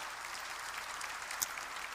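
A church congregation claps together in a steady, even patter of applause that stays alone and unbroken, with one slightly sharper clap partway through.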